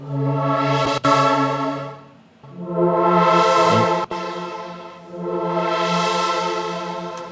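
Synth chord with redux, chorus, phaser, flanger and OTT effects, played as a beat production sound: three long sustained harmonic-rich chords, each swelling and sweeping, with short breaks between them and no talk.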